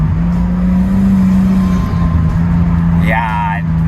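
Mitsubishi Eclipse from Fast & Furious: a loud, steady engine drone heard from inside the car, low and constant, with a voice talking over it and a brief rising tone near the end.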